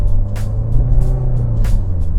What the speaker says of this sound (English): Oh no, that's a bus.